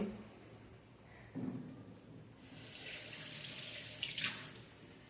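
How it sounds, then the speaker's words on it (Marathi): A tap is turned on partway through, and water runs steadily into a sink with a soft splashing hiss, fairly quiet and close. "मध्ये मध्ये तुम्हाला पाण्याचा आवाज येत असेल. नळ सुरू करते मी हात धुवायला."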